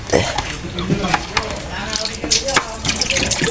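Hot water splashes and pours into a bowl with clinks and knocks, while a person talks over the sound.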